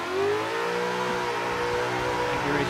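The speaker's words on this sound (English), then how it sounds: "I do like how this Mustang is driving on a bass tune" A Mustang engine revs and holds high in a drifting video game on a bass tune, steady and fairly close, with the pitch rising and easing as the car slides.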